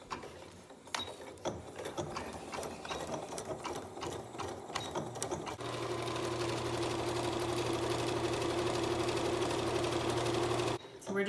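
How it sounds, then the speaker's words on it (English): A sewing machine stitching around a sleeve of a hospital gown, first with intermittent clicks and handling, then a steady continuous motor whir running for several seconds before stopping. "we're gonna go ahead and just sew around"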